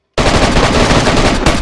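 Gunfire in the game DayZ begins suddenly after a moment of silence as a loud, rapid automatic burst, very close and continuous to the end.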